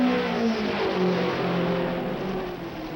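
A Watson-built Leader Card Special Indianapolis race car at speed makes a loud engine roar with a shifting pitch that fades slightly toward the end, with no talk.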